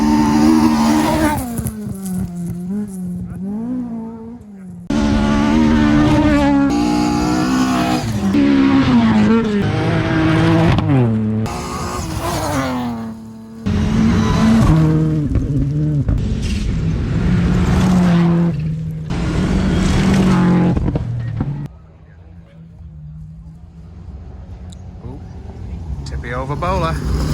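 Rally cars race through a forest stage at Rally North Wales, their engines revving hard and rising and falling in several loud, close bursts as they pass, with tyres skidding on the loose surface and brief lulls between cars.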